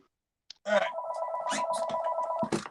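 A telephone rings in a continuous electronic trill lasting about two seconds, loud and close, with a few clicks and bits of background noise around it and no talk over the ring.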